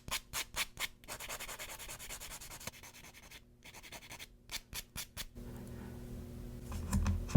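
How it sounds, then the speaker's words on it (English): A buffer rubbed across the top of a fingernail during a gel manicure, a soft, close scratchy rasp in short bursts of quick strokes separated by brief pauses. "So I just buff the top."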